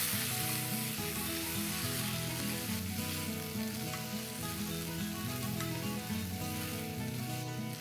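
Chopped fenugreek leaves sautéing in a pan for a potato methi bhaji, a steady close sizzle with a light hiss throughout, over faint background music.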